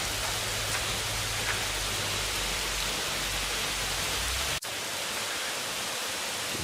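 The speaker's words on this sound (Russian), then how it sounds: "Но дождь идет." Steady rain pours down as a dense, continuous hiss, with a low rumble underneath that cuts out suddenly near the end.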